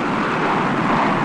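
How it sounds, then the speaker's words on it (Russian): A fixed-wing airplane roars loudly and steadily at takeoff, a dense, continuous engine and air rush filling the short moment with no voices. "Встречный поток воздуха создает подъемную силу. И самолет взлетает."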